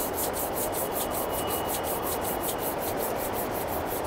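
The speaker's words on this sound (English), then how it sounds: "rub the palms of your hands gently against each other" Palms rub gently together in a steady back-and-forth, producing an even, close, rhythmic hushing friction with no voice present.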